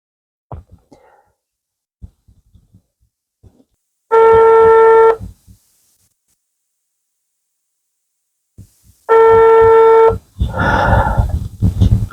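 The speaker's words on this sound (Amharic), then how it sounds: "The phone is ringing." A telephone rings twice, each electronic trill lasting about a second with a long pause between, and then a person starts talking.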